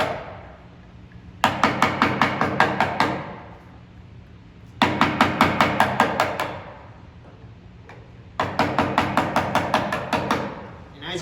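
A gouge is struck again and again while carving a wooden spoon: three separate bursts of quick, evenly spaced sharp knocks, close and loud, with short quiet pauses between them.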